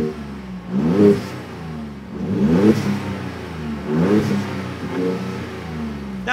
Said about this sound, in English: their MF Series dual exit catback exhaust system